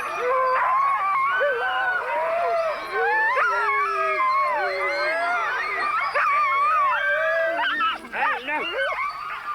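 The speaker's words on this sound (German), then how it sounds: "Wie immer betteln eigentlich alle Hunde darum, auch heute mit hinaus zu dürfen." Greenland sled dogs howl and whimper together in a dense, wavering chorus, eager to run with the team, the yelps and long howls rising and falling continuously and loud throughout.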